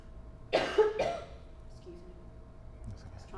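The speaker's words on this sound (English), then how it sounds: "I was trying not to cough while you were answering." A man coughs twice in quick succession, fairly close and loud, during an indoor interview, followed by quiet room tone with a faint low hum.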